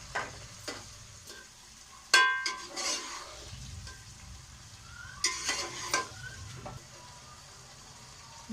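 Peas and potatoes frying and being stirred in a pan for noodles, with a steady low sizzle under repeated scraping stirs and a few sharper utensil clatters, close and fairly quiet, no talking.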